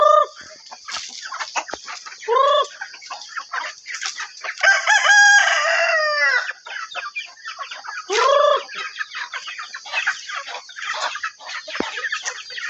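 Backyard chickens clucking close by with a rooster crowing loudly through the middle, plus a couple of shorter crows and scattered squawks over a quiet rural background, without talk.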